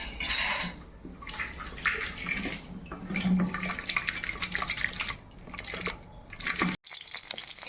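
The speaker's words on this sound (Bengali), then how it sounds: "তো এবার একটা ঘুটনি দিয়ে একটু মিশিয়ে নিতে হবে একটু ভালো করে" Boiled taro leaves being mashed with a wooden masher in a pot, giving wet squelching and scraping sounds with clattering knocks against the pot, steady and close throughout.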